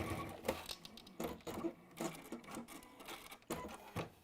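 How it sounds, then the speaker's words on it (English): A sewing machine tacks a fabric seam in place with a 1/4 inch seam allowance, making short runs of quick, close mechanical stitching clatter with brief pauses between them. "with a 1/4 inch seam allowance, you're just going to tack that in place."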